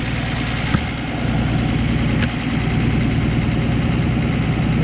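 A 1964 Plymouth Belvedere's slant-six engine idles steadily and loudly up close, a constant low rumble with a faint rhythmic chug and no voices.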